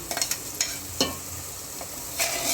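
Coconut, garlic and ginger masala fries in a pan with a soft, continuous sizzle, broken by several quick scraping stirs and clinks of the spatula, close and fairly quiet.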